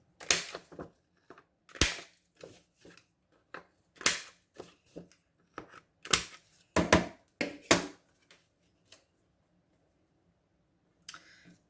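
Scissors snipping the corners off paper for an agenda craft project, a series of sharp close clicks and cuts in irregular bursts, then a quiet stretch with one last snip.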